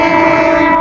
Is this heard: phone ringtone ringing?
no